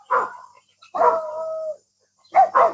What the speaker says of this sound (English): the dog is barking at something